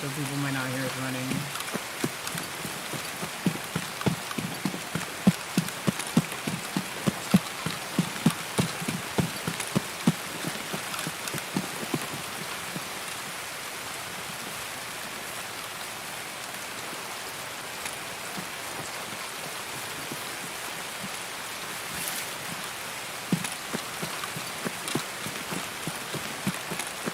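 Steady rain falling in Escape From Tarkov, a dense patter of drops on surfaces with irregular sharper taps, constant and moderately loud throughout.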